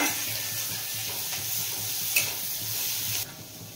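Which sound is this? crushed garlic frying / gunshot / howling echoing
crushed garlic frying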